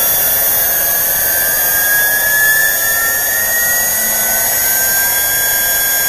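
A CNC mill spindle running about 7,000 RPM drives an end mill across a workpiece at roughly 70 inches per minute, a steady high-pitched whine with a shrill cutting hiss that holds evenly throughout.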